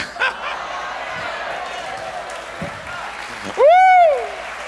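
A church congregation applauds during a sermon: a steady, dense wash of clapping fills the room, and near the end a brief, loud swooping tone rises and falls above it.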